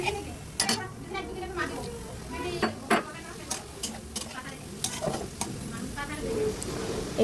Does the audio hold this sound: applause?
no